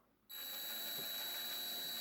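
A small drill works slowly on a rivet in a Matchbox No11 scaffolding truck, starting abruptly after a brief quiet moment and then holding a steady, high-pitched whine close by with no talk.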